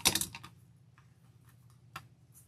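Scissors trimming the excess end of a pipe cleaner wrapped around a wreath sign: a sharp crisp snip at the start, a few small clicks after it and one more light snip near the end, close and alone.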